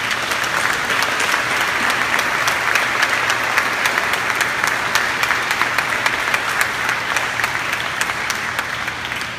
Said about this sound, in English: let us now give them a big round of applause